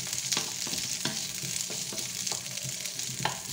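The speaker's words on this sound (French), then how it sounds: "je mets un peu ma viande à revenir" Beef browns in a hot pan for boeuf bourguignon, hissing in a steady close sizzle broken by the regular scrapes and knocks of stirring.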